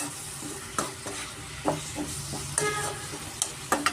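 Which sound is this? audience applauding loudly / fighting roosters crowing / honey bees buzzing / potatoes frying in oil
potatoes frying in oil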